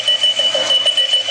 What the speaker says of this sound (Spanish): El despertador suena.